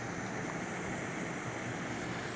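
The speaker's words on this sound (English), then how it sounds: "Boiling some water." Water heats on a camp stove at a backcountry campsite during a long-distance trail hike, giving a continuous roaring hiss from the burner and pot. The sound is close and even, with no talking over it.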